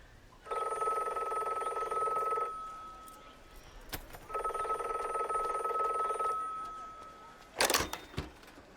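A telephone bell rings in two long bursts of about two seconds each, separated by a pause, followed by a short clatter as the handset is picked up, heard indoors in a Telugu drama scene.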